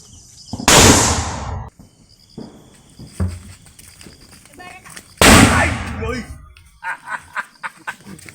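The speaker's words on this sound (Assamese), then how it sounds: "হাইড্ৰজেন বোমা হয় কেনে চাউণ্ড হ'ব ভাবি চাওক না" A hydrogen bomb firecracker set off on a road during Diwali gives a sudden loud blast. A second loud bang follows a few seconds later, with people talking and laughing softly in between.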